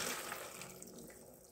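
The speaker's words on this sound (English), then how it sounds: "Now we will add the water" Water pouring steadily into a pot of potatoes and carrots for chicken menudo, a soft continuous splashing stream, close and fairly quiet, with no talking.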